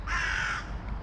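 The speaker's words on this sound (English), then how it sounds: "We're surrounded by crows up in the tree." Several crows caw loudly and close together from a tree, a continuous harsh calling with no speech, part of a morning scene beside a loaded flatbed truck in London.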